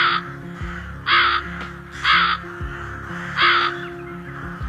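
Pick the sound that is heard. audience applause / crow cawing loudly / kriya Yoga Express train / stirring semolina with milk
crow cawing loudly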